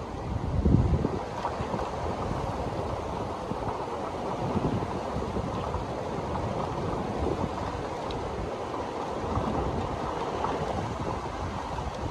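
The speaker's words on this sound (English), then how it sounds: "Look at that wind." Strong wind roars and buffets the microphone in a steady, heavy rush during a severe thunderstorm, swelling in gusts without letup.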